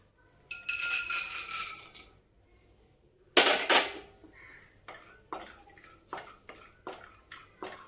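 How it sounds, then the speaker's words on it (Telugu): Peanuts roast in a pan for a leftover-rice pulihora, clattering loudly in bursts at first, then rattling in a series of sharp, separate scraping knocks, with no voices. "ముందుగా మనం పల్లీలు వేయించుకుందామండి."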